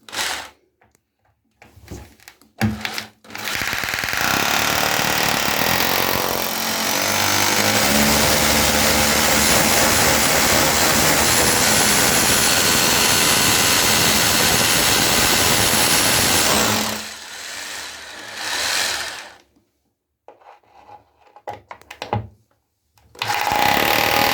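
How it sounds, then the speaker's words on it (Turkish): A hammer drill with an 8 mm bit bores holes into a wall, a loud, continuous mechanical drilling roar running for about fifteen seconds, with short bursts before and after, and no talking. "hiltimizle 8 milimetrelik matkap ucuyla deliyoruz."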